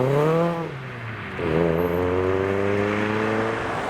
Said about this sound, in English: there's the Mustang leaving